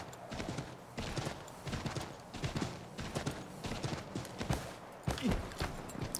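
Horse hooves clip-clop quickly and steadily in Assassin's Creed III, close and moderately loud over a busy background of ambient noise.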